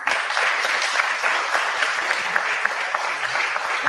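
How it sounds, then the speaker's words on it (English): A hall audience at a conference's closing valedictory session applauds, a dense, steady wash of many hands clapping that holds evenly for several seconds. "Let us give a big applause to IT team, the volunteers, and the participant,"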